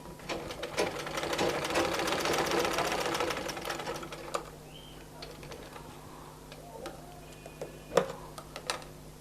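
Sewing machine stitching a half pant for a one-year-old boy, running in a steady rapid loud burst for about four seconds, then stopping with a few scattered clicks and handling knocks.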